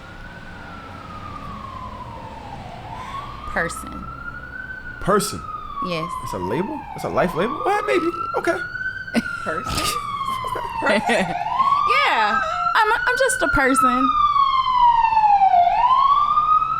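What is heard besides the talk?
ambulance siren passing in New York street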